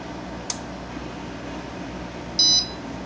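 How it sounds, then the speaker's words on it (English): A DIY all-in-one aquarium controller gives a short electronic beep as the tank's pH drops below its set reading, a single clear tone over a low background hum, with a faint tick just before. "our pH just dropped below our reading, so she beeped and went blue"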